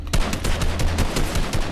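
Rapid bursts of gunfire in a Minecraft-style online shooter game, loud sharp shots repeating in quick irregular volleys throughout, with no talking over them.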